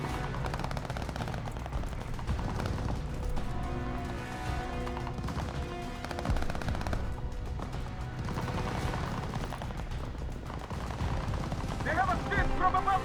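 Call of Duty Vanguard gunfire rains down from hotel windows above: dense, continuous bursts of rifle and machine-gun fire with shouting voices mixed in throughout a loud battle scene.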